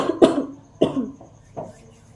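Three separate coughs, close and fairly loud, spaced evenly about half a second apart, from a person with a cold.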